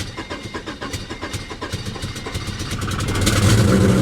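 A Nissan Frontier NISMO pickup cranks with rapid rhythmic starter pulses, then catches and settles into a rough, uneven idle through a raspy exhaust that grows louder toward the end.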